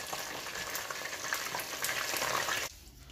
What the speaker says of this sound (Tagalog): Pag maingay pa ang mantika ay ibig sabihin hindi pa luto ang ating nilulutong fried chicken joy